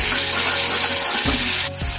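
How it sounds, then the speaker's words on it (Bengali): Masala with green chillies and salt frying in a pan for Bengali doi bhetki, a loud continuous hissing sizzle up close, broken by a couple of low thuds from stirring. "দিয়ে খুব ভালোভাবে 2-1 মিনিট মশলাটাকে কষিয়ে নেব"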